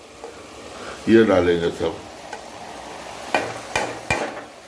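Dry spices frying and being stirred in a pan for a cauliflower, tomato and pea curry, with brief scraping strokes and light sizzle under a short spoken remark.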